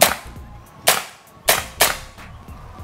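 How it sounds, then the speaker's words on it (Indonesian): A PCP Emperor AGS semi-automatic air rifle fires four sharp, snappy shots in quick succession, each a loud close crack with a short fading tail. "Oke, langsung kita coba tembakan ke arah bawah, kita lihat mimisnya bisa keluar atau tidak."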